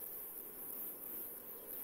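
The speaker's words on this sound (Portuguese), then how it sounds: "Os machos fazem-se ouvir para atrair as fêmeas, estridulando as suas rudimentares asas, produzindo um som agudo característico." A high, thin buzzing trill of a male saddle bush cricket stridulating its rudimentary wings carries steadily and faintly, continuous with no pauses, against a quiet outdoor background on the Portuguese coast.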